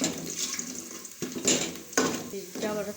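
Water is poured into a cooking pot of rice and cumin for kadhi pakora, giving a few short splashing pours with brief pauses, close and fairly quiet.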